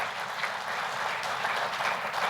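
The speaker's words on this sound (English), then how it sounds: "give yourselves a round of applause" Members of a manufacturers' board of directors applaud in a hall, a brief, dense wash of clapping heard at a distance, steady and even from start to finish.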